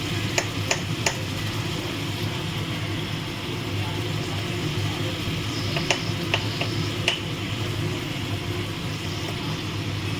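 A ridge gourd and potato curry is stirred in a hot pan, with a steady close sizzle and a few sharp clinks of a utensil against the pan scattered through it.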